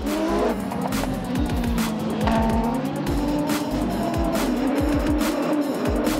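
Autocross race cars in a European Autocross Championship semi-final at Vilkyčiai, engines revving hard and changing pitch, with tyre squeal and skidding, loud and close throughout.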